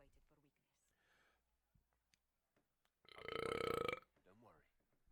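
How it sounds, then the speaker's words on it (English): A loud, drawn-out burp from a gamer playing Dragon Age Inquisition lasts about a second, with brief spoken words and faint clicks before and after it. "I have to burp again."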